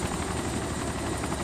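Helicopter in the video game DayZ, a loud steady rotor roar with dense broadband wash, continuous and close throughout with no talk over it.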